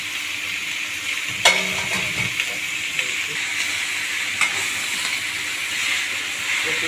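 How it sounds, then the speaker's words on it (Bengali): Raw greens frying in oil, a steady hissing sizzle with occasional scraping knocks of a spatula stirring them in the pan. "শাকটা দিয়ে দিচ্ছি আমি, এখন নাড়া দিয়ে নেব।"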